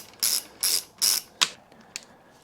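A ratchet wrench clicks in three quick bursts followed by two sharper single clicks, close and crisp, while bolts come off the hand guard setup of a 2024 BMW 1250 GSA motorcycle.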